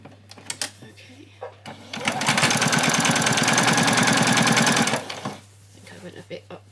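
Domestic sewing machine stitching along an apron hem, a fast even mechanical chatter running loud and close for about three seconds, framed by brief handling clicks and soft movement before and after.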